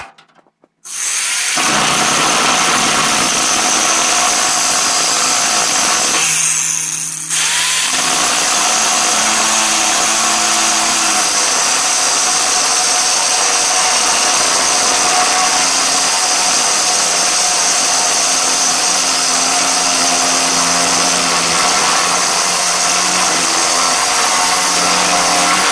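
A power tool cuts metal pieces for an ATV log hauler, a loud, steady, harsh whine lasting about 25 seconds with one brief pause where the pitch drops before the cut resumes.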